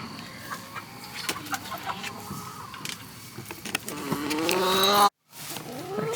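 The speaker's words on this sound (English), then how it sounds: "Our chickens are not happy." Chickens cluck and squawk agitatedly, with a louder, rising protest near the end and a brief cutoff, amid rustling handling noise.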